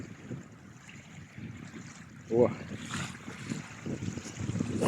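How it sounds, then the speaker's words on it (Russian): Cold wind blows by a lake in a Belarusian village, a steady low rumbling gust noise against the microphone with a brief spoken exclamation partway through. "Блин, такой ветер холодный."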